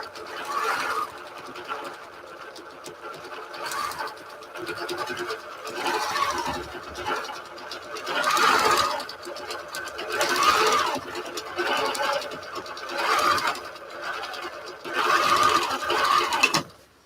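A sewing machine stitches a quilt in repeated close, whirring bursts of rapid needle chatter with brief pauses between runs, and faint talk now and then.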